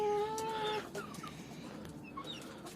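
Backyard laying hens cluck close by. One drawn-out call opens the clip, then softer scattered clucks and short squawks follow over a quiet background with no talk.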